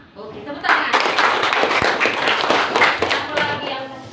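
A classroom of students claps hands together in a steady burst of applause lasting several seconds, close and fairly loud.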